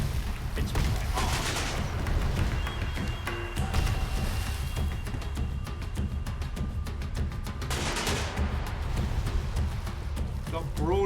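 Ship cannon broadsides from the sailing game Sail Forth fire during a clash with a clan boss, as repeated booming volleys over a steady layer of sea and game sound, with a voice talking throughout.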